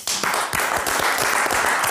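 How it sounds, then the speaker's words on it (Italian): Loud, close applause from a small group, rapid irregular claps continuing steadily for a couple of seconds. "Applausi a questo signore, applausi a questa ragazza."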